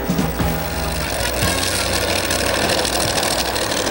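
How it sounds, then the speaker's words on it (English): Multi-engine custom racing tractor pulling machines roar together while dragging a heavy sled, a dense, loud, continuous engine din with rapid knocking pulses filling the whole stretch. "when 3 or 4 of them are pulling the big sled in unison, you can hear as well as feel the power."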